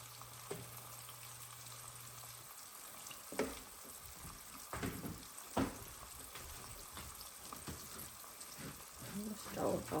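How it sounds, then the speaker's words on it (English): Pork chops frying in a hot pan, a steady soft sizzle with occasional louder pops and clatters as pieces are moved, fairly quiet, with a person talking at times. "I'm gonna go ahead and add my pork chops to it"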